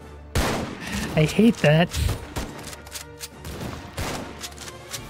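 Video game gunfire in Tower Defense Simulator crackles in a burst of sharp shots followed by scattered pops, loud at first then lighter, with a player's voice speaking over it.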